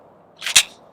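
A pistol slide released with the slide stop lever and snapping forward, a quick sharp metallic clack preceded by a brief softer click, close and loud against a quiet room.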